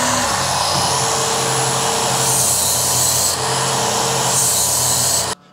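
A Work Sharp Ken Onion belt sharpener grinds a knife edge: a loud, steady motor whir with abrasive hiss runs continuously, then cuts off abruptly near the end.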